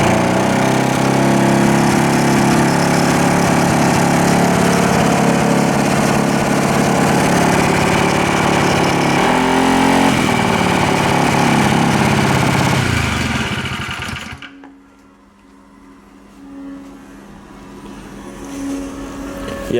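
Turbocharged 1/4 scale RC car engine running loud and buzzy like a small mower, revving briefly before cutting out near the end, leaving a quiet low hum.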